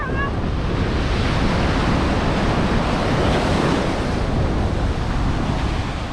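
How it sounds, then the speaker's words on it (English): Choppy ocean surf rolls in on a windy Pensacola, Florida beach, a steady loud wash of breaking waves and gusting wind buffeting the microphone throughout, with no clear speech. "it's a little choppy today. Some decent waves out there, actually."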